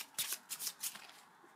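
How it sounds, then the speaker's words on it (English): A deck of board game dungeon cards gets shuffled up close in three or four quick, crisp riffling bursts, then trails off to quiet. "Shuffle these all together."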